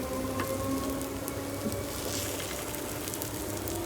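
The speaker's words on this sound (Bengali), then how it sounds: "এইভাবে আমি সব পোস্তর বড়াগুলো দিয়ে দিচ্ছি একে একে।" Poppy seed fritters (posto bora) sizzle in hot oil as they are added one by one, giving a steady, fairly quiet crackle with small pops throughout.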